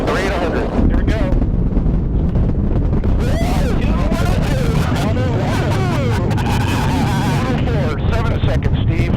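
Space Shuttle Atlantis main engines roaring at launch on STS-122, a loud, continuous broadband rumble that holds steady throughout, with crowd voices talking over it.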